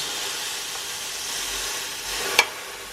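Chaffle batter steams and sizzles inside a closed waffle maker, a steady close hiss holding throughout with one brief sharp click near the end.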